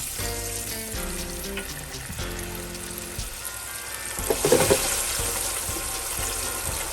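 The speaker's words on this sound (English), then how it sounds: "Okay, and they're frying." Steady, loud sizzling of meatballs frying in a pan at about 350 degrees, with a brief stirring clatter partway through.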